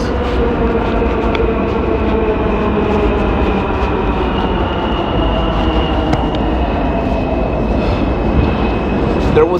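A New York City subway train rumbles steadily throughout, a continuous loud roar of wheels on track with faint squeals and clanks mixed in.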